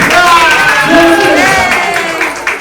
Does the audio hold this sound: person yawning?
no